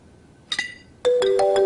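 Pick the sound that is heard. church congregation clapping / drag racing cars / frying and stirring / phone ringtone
phone ringtone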